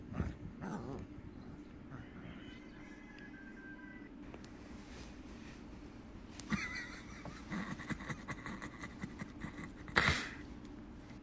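A dog whimpering softly in a few faint, thin whines spread across a quiet indoor background, with a brief louder cry near the end.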